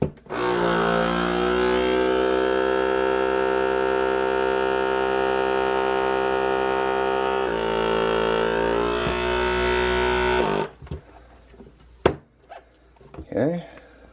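A vacuum sealer's pump drones loudly and steadily for about ten seconds, then cuts off, followed by a few clicks and handling noises.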